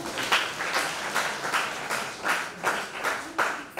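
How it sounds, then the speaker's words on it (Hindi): An audience in a college hall claps in periodic bursts, with several swells of applause rising and falling in a steady rhythm, moderately loud and without talk. "उसके लिए उसको ताली बजा दे"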